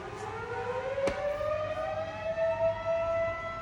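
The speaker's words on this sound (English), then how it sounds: "Oh boy, sirens." A wailing siren rises steadily in pitch, loud and continuous over a low rumble, with a brief sharp click partway through.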